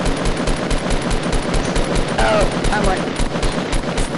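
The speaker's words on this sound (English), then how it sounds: "Oh my gosh, they're shooting at me." Rapid machine-gun fire in a PS4 shooter game, steady dense bursts running the whole time, loud and close, with a player talking over it.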